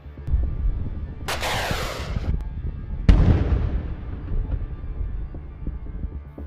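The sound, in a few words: explosion destroying a Russian armored personnel carrier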